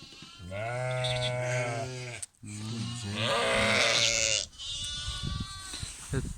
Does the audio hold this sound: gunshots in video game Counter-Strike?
no